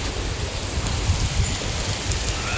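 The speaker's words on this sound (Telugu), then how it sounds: "వర్షం బాగా పడుతుంది" Heavy rain pours steadily outdoors, a dense, continuous wash of drops with a deep rumbling low end, holding even and unbroken without any voices.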